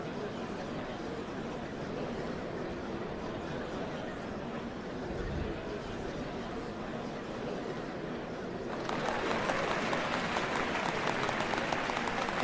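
A large crowd applauds in the video game Final Fantasy XIV Dawntrail as a steady, dense wash of clapping that keeps going throughout, then swells noticeably louder and brighter toward the end.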